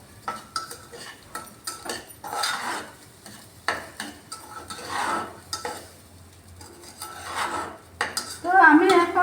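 Rice with salt, sugar and pepper being stirred in a pot, spoon scraping and clinking against the metal in irregular bursts, close and moderate in volume, with a faint steady hum underneath.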